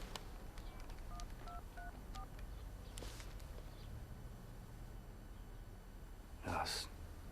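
A telephone is dialed indoors, a short series of evenly spaced electronic keypad tones beeping one after another, moderately close over a faint room hum, followed by a brief burst of noise.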